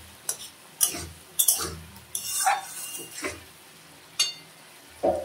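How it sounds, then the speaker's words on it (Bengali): A spoon or spatula stirs duck egg and potato curry in a pan, giving repeated scraping knocks and clinks at an uneven rhythm over a faint background sizzle. "এখন ভালো করে নেড়ে দেবো।"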